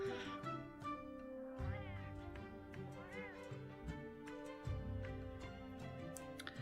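A cat meows in the video game Final Fantasy XIV, with a couple of short rising meows standing out over steady game music and ambient tones.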